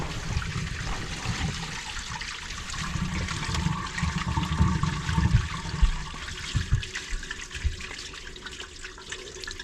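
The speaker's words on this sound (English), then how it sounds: "Flush the toilet!" A toilet flushing in a house with a contaminated sewer line and crawl space, a rushing, gurgling surge of water that swells and then trickles off, fairly close and with no talk.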